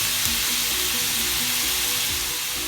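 Tomato, green chillies and green peas fry in a pan for quinoa upma, giving a steady, close sizzle with a soft hiss throughout and no talking.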